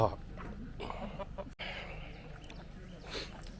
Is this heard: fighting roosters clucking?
yes